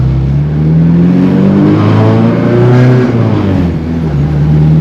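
A Honda Accord CB7 engine revs up through its exhaust, lacking a resonator, a loud, close, throaty roar rising and dipping in pitch as it accelerates.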